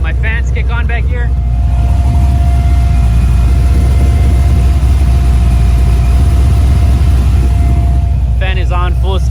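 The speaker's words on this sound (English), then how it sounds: "You guys can kind of hear my fans kick on back here." The engine oil cooler and transmission cooler fans on an LS3 Procharged OBS truck roar at full speed in a steady, loud rush over the engine's drone, with someone briefly talking at the start and end.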